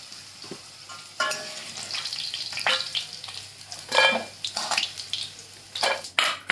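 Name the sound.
onion frying and being stirred in oil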